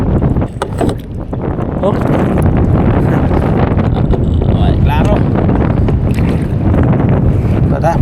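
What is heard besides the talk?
strong wind while kayak fishing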